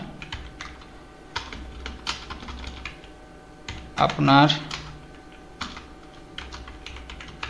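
Steady typing on a computer keyboard while filling in a web form, with clicky keystrokes and a few louder key taps, plus a short spoken phrase in the middle.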